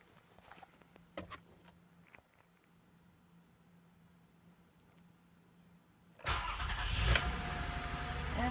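A Toyota Sienna 3.5L V6 engine cranks and catches after a quiet stretch with a few clicks, then settles into a steady, loud idle close by, following spark plug and coil replacement.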